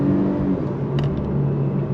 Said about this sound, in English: we're gonna go on throttle from a dead stop.